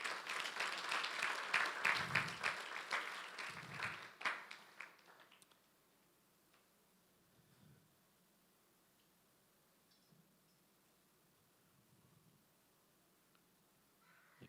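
A church congregation applauds loudly for roughly four seconds, the clapping thinning and fading out by five seconds, followed by near silence with only faint scattered low sounds.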